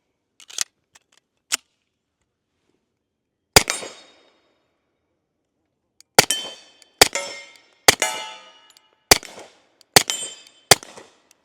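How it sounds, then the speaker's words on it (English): Suppressed Sig 1911 X stainless .45 pistol firing outdoors: sharp, loud cracks spread across the clip, a few isolated shots first, then a rapid run of six or so with brief ringing tails, no talking. "Nothing like a suppressed 45"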